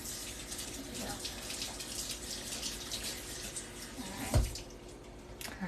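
Tap water running steadily into a sink while lobster tails are rinsed, a soft continuous hiss with a brief louder splash near the end, heard up close.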